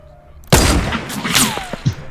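Gunfire in the Call of Duty WWII campaign erupts as a sudden loud burst of overlapping shots after a quiet start, with a few trailing cracks and a thud fading out.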